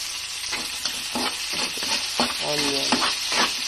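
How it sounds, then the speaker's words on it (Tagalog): Garlic and onion sautéing in a pan for chicken afritada give off a steady loud sizzle, with stirring scrapes and clatters throughout. "Saute lang muna tayo ng garlic at saka onion."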